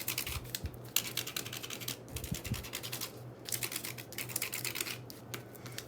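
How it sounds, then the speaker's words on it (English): A wooden skewer scrapes lines into handmade collage paper in an art studio, giving dense, rapid scratching strokes that run in bursts with short pauses, close and fairly steady, alone without talk. "This is a skewer. I use these a lot. To scrape and make lines."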